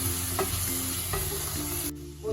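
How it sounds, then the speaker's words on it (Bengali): A spice paste with sugar and Kashmiri red chili powder is fried and stirred in a pan for a potol chingri curry, with a steady sizzle and a few spoon scrapes before it abruptly quiets. "মশলা কষানো আমার প্রায় হয়ে গেছে।"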